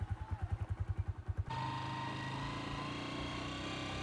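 A motorcycle engine putters in rapid, even pulses, then revs up into a steady, louder drone as the bike pulls away.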